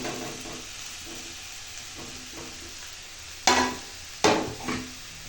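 Soaked flattened rice being stirred into fried vegetables in a hot pan gives a steady low sizzle, with a few sharp scraping strokes of the spoon near the end and no voices.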